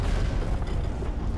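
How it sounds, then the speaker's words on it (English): Explosion in an animated show, a dense low rumbling boom that fills the whole stretch with sustained, loud, heavy low-end energy and no voices. "Full on explosion?"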